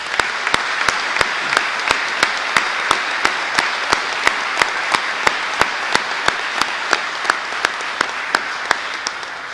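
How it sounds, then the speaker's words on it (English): Audience at an Armed Forces Day ceremony giving a round of applause, steady crowd clapping with one sharp, regular clap standing out near the recorder throughout. "let's give them a round of applause anyway"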